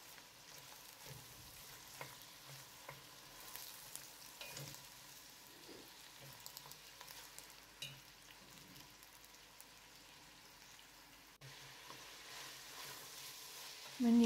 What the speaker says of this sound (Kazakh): оны да жақсылап жұмсарғанша қуырамыз